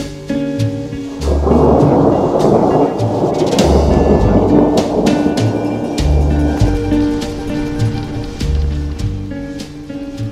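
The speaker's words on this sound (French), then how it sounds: "nous avions échappé jusqu'à présent à l'orage qui nous rattrape lors de cette étape" Thunder rumbles heavily through a rainstorm in Bolivia, with a loud rolling crash near the start and continuing rumbles over steady rainfall, punctuated by brief sharp crackles.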